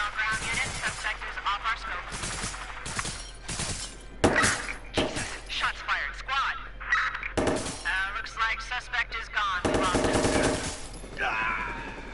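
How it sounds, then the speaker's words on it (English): Sniper rifle and other gunfire in the video game Watch Dogs 2, sharp loud cracks at irregular intervals across a chaotic game mix, with a person talking and shouting throughout. "He has a freaking sniper."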